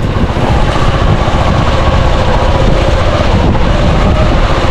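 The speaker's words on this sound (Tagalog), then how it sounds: "Yung hangin, woo! Pumipito." Strong super typhoon wind roars steadily and loudly, close and buffeting, with broadband gusty noise throughout and no speech.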